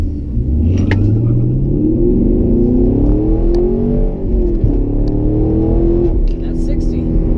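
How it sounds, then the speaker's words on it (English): A 2016 Chevrolet Camaro SS launches from a standstill toward 60 mph, its loud, close engine roar climbing steadily in pitch with brief dips at gear changes, continuous throughout. "Let's do a little 0 to 60 run, see how fast we can get going."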